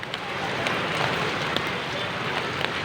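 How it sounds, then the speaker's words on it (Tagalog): Rain falling steadily outdoors, a dense even hiss with scattered drop taps, continuous throughout. "umuulan na"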